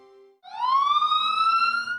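A single emergency vehicle siren wails out abruptly after a faint tone, sliding up into a steady, bright howl that holds loud and clear for a couple of seconds.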